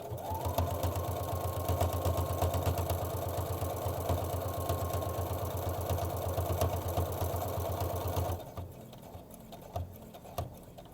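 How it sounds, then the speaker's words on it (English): Sewing machine stitching forward through fabric at speed, a steady rapid mechanical chatter close by for about eight seconds before stopping, leaving quiet handling noises. "And now we just sew forward on our project."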